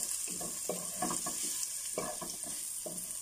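Carrots sizzle and fry in a pan for vermicelli (bihon), a steady crackling hiss with several short bursts of stirring, close and alone with no talking.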